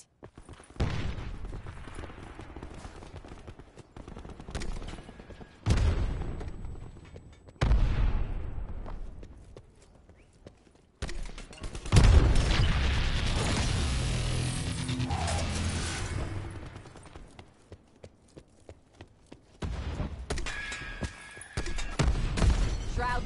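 Artillery strike explosions in a video game, several heavy booms and rumbling blasts arriving in separate bursts, with a long roaring barrage in the middle and quieter gaps between.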